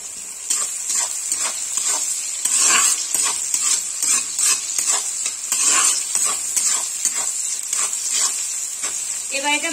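Crushed garlic frying in a pan while being stirred, a bright hissing sizzle overlaid with repeated scraping and clinking strokes of a utensil, close and fairly loud throughout.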